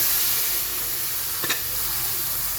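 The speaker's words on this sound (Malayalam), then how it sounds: "ഇറച്ചിയിലേക്ക് ഇട്ടേക്കാം നന്നായി ഇളക്കി കൊടുക്കാം മസാല അങ്ങോട്ട്" Camel meat being stirred with masala in a sizzling pan, a steady frying hiss running throughout with a brief scrape of stirring near the middle, close and moderately loud, with no voices.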